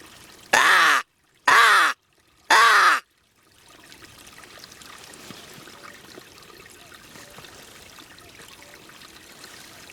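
Three loud, harsh caws from a single crow ring out close by in quick succession on a misty, low-cloud morning, then give way to a steady low trickle of water that carries on to the end.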